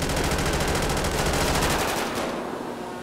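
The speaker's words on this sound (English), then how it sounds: "I'm shooting so much." Rapid automatic gunfire in a GTA police roleplay game, a dense stream of loud close shots for about two seconds that then trails off into echoing decay.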